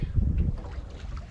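Sailboat coasting under sail with its engine off near San Pedro: a brief low wash of water and wind buffeting against the hull, close and fairly quiet, with no talking.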